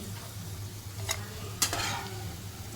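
Crisp potato slices fry in a pan with a soft, steady sizzle, punctuated by two brief scraping clatters of a utensil turning them.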